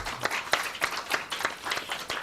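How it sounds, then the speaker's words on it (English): Audience applause for a chairperson at a foreign-policy dialogue event, heard as a thin, uneven patter of claps that comes and goes in loose pulses, moderately faint and with no voices over it. "Please, let's give the chairperson another round of applause."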